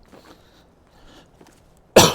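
A single sharp, loud cough near the microphone at the very end of a quiet outdoor stretch at a campsite, preceded by faint low background sounds.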